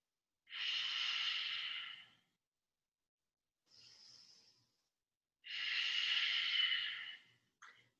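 Slow yoga breathing during a vinyasa practice: long, airy breaths close to the mic, two strong drawn-out exhales separated by a softer one, with silent pauses in between.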